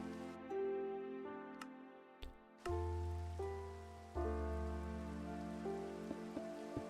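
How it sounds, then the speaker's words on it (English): Rain in a Minecraft-style video game, played back through a replay mod, gives a soft steady patter under a string of clear, ringing musical tones, fairly quiet and with no speech. "I guess I'm just going to start the replay mod and have it be raining."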